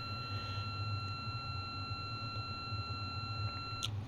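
A night vision timer in a student-built video game sounds an electronic alert: steady, high pitched tones held at an even level for about four seconds over a low background hum, ending in a brief burst.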